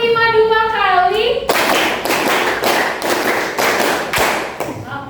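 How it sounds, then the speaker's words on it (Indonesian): In a school classroom, a voice calls out first, then the class answers with a patterned group clap: several sharp, loud bursts of many hands striking together in a rhythmic sequence. "Tepuk 5 2 kali."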